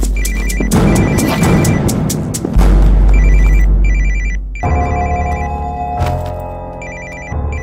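A telephone rings loudly in a tense indoor scene, its repeated electronic ring bursts sounding over a busy, crashing background of music and effects, with no talk over it.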